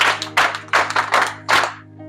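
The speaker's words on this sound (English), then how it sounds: "Clap for yourself." Several bursts of audience clapping in quick waves at an orphanage donation event, fairly close and loud, with a steady hum underneath, fading out at the end.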